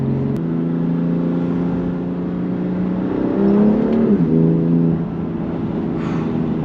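A BMW M2 Competition's engine pulls hard under acceleration, a loud, close, steady drone that climbs in pitch, swells, then shifts down and settles, with no talking.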